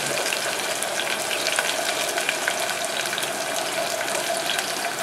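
Onions with salt sautéing in a hot pan for coconut milk rice, giving a steady, fairly loud broadband sizzle that continues without pause and with no voices over it.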